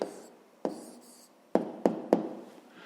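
Pen on paper writing down a math answer: soft scratchy strokes broken by several sharp taps, quiet and close with no voices.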